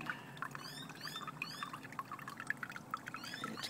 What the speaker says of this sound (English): Water just flowing there.